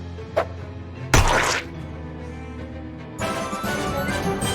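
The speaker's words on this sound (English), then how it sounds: "we'll finish him off with a rock" A thrown rock hits an enemy in the video game Shadows over Loathing with a short thudding whack and a brief breaking crash, set against soft game music that swells afterward.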